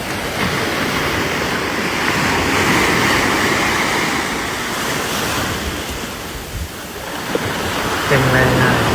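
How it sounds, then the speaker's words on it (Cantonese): Sea waves and wind at a Hong Kong beach near Shek O: a steady, full rush of surf rolls on without pause, with gusts buffeting the microphone throughout. "只好在海邊吹吹海風吧。"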